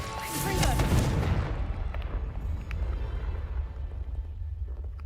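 A Confringo blasting spell explodes in the Hogwarts Legacy video game: a loud, booming blast in the first second and a half, then a rumbling decay that lingers under the game's background sound.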